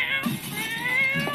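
A cat meows in a video game, a drawn-out whiny call with a couple of short rising cries, heard close over a steady electronic hum.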